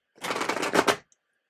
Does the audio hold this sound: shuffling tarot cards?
yes